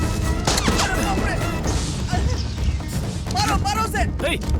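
Gunfire from an action movie scene, rapid bursts of shots and crashes mixed into a loud, dense, continuous soundtrack with shouting voices throughout.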